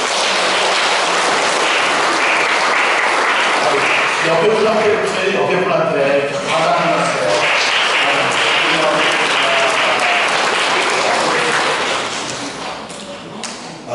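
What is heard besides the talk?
audience applause in church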